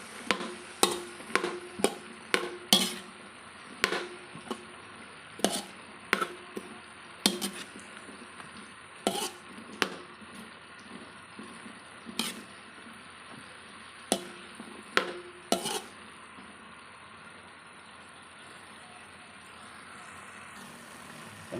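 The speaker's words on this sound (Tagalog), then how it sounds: "ilalagay ko na rin itong mga gulay" Sharp, irregular clacks and scrapes of a utensil against a frying pan as vegetables are stirred while cooking, with sizzling underneath and the strokes thinning out toward the end.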